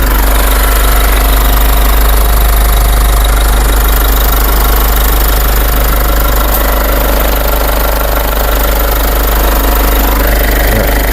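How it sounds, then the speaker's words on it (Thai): A 2023 Isuzu D-Max Hi-Lander 1.9 X-Series pickup's diesel engine idles loudly and steadily with a rough, knocking rumble that stays even throughout, no voices. "ให้ลองฟังเสียงเครื่องยนต์นะครับ เครื่องยนต์เดินเรียบไม่มีสะดุดนะครับ"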